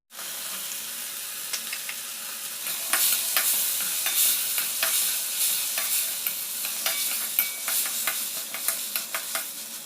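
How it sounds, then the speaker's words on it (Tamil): Garlic sizzles in hot oil for poondu kuzhambu, stirred with a spoon that scrapes and clicks against the pan in irregular strokes over a steady close frying hiss. "இப்போ பூண்டு ஆட் பண்ணிக்கோங்க"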